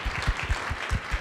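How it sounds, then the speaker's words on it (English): A small audience claps at a youth leadership talk, a brief patter of scattered hand claps at moderate distance. "applause again."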